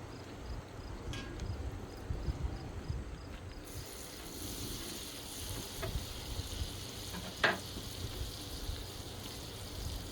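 Roux for a chicken linguine alfredo sauce cooking in a pan, a faint, steady low sizzle with a soft stir or clink partway through, no talking.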